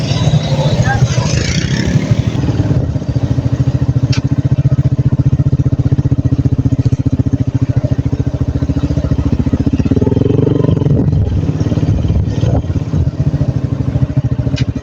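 A motorcycle engine runs close by with a rough, rapid chugging rumble, loud and continuous, while people talk over it; the rev note shifts partway through.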